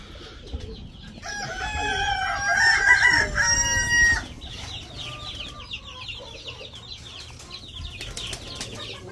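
Golden Buff chickens in a cage squawk and cluck loudly, with a rooster-like crow and a burst of wing flapping early on, then a busy chorus of overlapping clucks and calls as the flock gathers.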